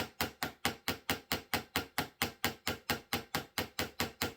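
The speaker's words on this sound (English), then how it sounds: "I'll take a small ball peen hammer, and I'll come in and just peen over those brass pins, and that'll lock everything in" A small ball peen hammer peening over brass pins on a Sgian Dubh knife handle, sharp metallic taps falling in a steady, even rhythm, about four per second, close and alone, each strike ringing briefly before the next.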